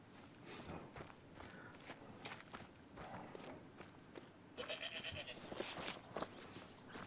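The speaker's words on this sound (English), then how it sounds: "Of course, we got goats." Goats bleating and moving about in a hunting game's field, faint repeated bleats mixed with light shuffling footsteps and a steady background hum, a busier burst toward the end.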